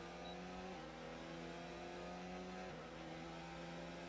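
Race car engine on a track in an Xbox racing video game, a loud, steady droning whine held at high revs, with two brief dips in pitch like gear shifts before it settles back, no voices.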